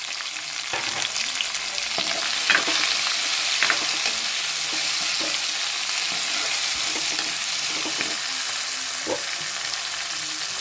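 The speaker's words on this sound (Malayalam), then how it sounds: "ഇപ്പോൾ തന്നെ നമ്മുടെ ഉള്ളി അങ്ങോട്ട് വഴറ്റാനിടാം" Onions sauté in oil with dried chillies for a Kerala beef curry, a steady bright sizzle running throughout, punctuated by irregular soft stirring scrapes, close up and alone.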